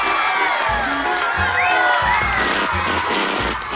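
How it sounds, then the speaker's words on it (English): Students jump to their feet cheering and applauding, a loud, dense crowd roar of excited children's shouts and whoops sustained throughout. "the students jumped to their feet and applauded"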